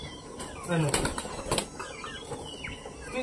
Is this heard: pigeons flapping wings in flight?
yes